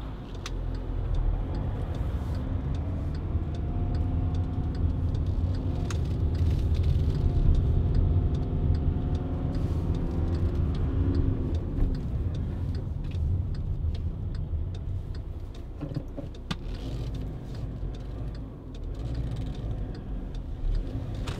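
A Skoda Yeti 1.6 TDI diesel car drives and turns around, giving a steady, low engine and road rumble from inside the cabin that holds fairly even throughout, with faint ticking from the indicator.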